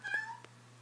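A cat meows twice in quick succession, fairly close and clear, followed by a brief softer chirp over a steady low hum.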